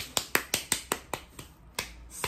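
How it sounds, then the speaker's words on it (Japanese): One person claps alone, a run of about ten sharp, evenly spaced claps that slow and thin out toward the end, close and dry with nothing else around them. "寂しすぎる、拍手が一人で。"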